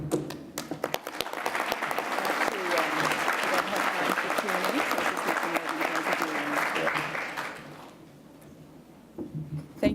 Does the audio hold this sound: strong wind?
no